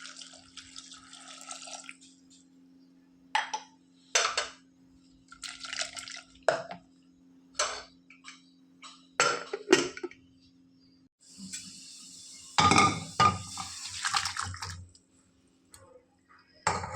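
Water is added to pumpkin pieces in a pressure cooker for a Mangalorean pumpkin curry, heard as scattered close splashes and drips with short bursts of pouring, partly over a steady low hum.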